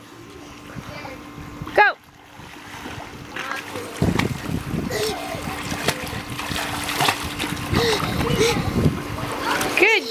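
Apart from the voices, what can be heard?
child swimming and splashing in water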